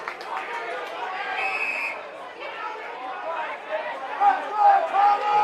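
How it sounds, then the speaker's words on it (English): A SANFL football crowd at the 2021 Round 13 Glenelg versus Adelaide match, roaring and shouting in a dense, swelling wall of noise, with a voice speaking over the din. "Crowd getting very vocal."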